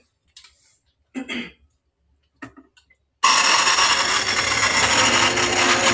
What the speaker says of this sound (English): my blender's a little bit loud